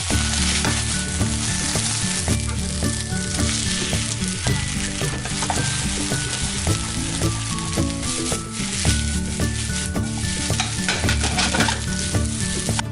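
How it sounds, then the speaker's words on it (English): Fried rice with chashu pork sizzles steadily in a hot pan, with repeated scraping and stirring strokes of the utensil throughout and no talking. "You just cook rice and all the ingredients you like. Of course, I use the CHASHU pork in it."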